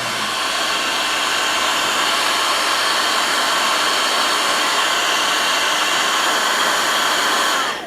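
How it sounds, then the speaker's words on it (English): A heat gun blows hot air onto an e-bike plug on a Magicycle Deer e-bike, giving a loud, steady broadband whoosh that runs unbroken and alone before cutting off at the very end. "get a heat gun. It's the easiest way to make these things come off."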